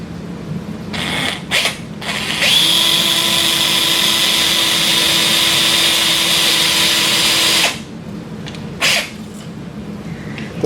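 A 3.2 mm surgical drill bores into the base of the second metacarpal of a sawbones model during total wrist arthroplasty, giving a loud continuous high whine for about five seconds between short handling clicks.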